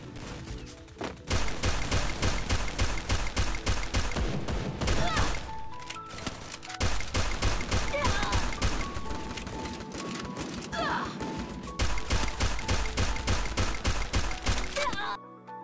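Rapid, sustained bursts of high-damage gunfire from a Free Fire mobile game weapon, loud and continuous across three long volleys separated by short pauses, with no talking.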